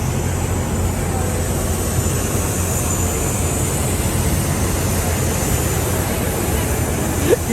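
A Biman Bangladesh Airlines airplane at the airport gives off a steady, loud engine whine and broadband roar that holds constant throughout, with no talking.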